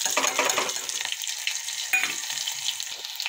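Cumin seeds and onion hit hot oil for a potato sabzi, giving a loud, close, steady sizzle with some stirring scrapes and no voices.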